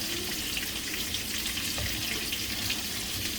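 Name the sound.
jambalaya pot boiling on medium heat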